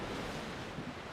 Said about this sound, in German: Das Meer unter dir wird kalt und winterlich grau.